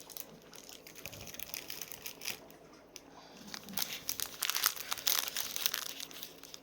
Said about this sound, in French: sachet zip